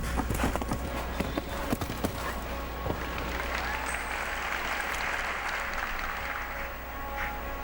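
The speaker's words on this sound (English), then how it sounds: "a big round of applause from the crowd" Loud crowd applause fills a show jumping arena at an international horse event, dense clapping with a few hoof knocks early on, continuing steadily before easing slightly toward the end.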